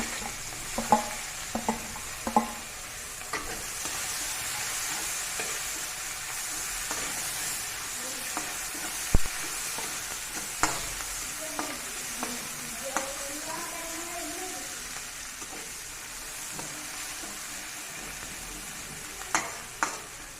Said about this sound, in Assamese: পিঁয়াজখিনি ৰঙা হোৱালৈকে ভাজিম মই।